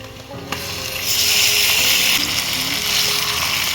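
Marinated chicken goes into a pan of fried onions for a spicy chicken kosha, and a bright sizzling hiss swells after a short clatter, then stays fairly loud and close without speech.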